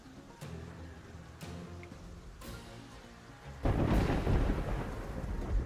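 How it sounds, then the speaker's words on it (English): Steady rain patters throughout in Terraria while several sharp thunder cracks hit in sequence, the last one rolling into a louder, heavier downpour. "It is raining again."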